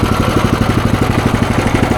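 A small engine revved with its throttle worked by hand, a close, loud, steady run of rapid firing pulses lasting the whole stretch, with no voices.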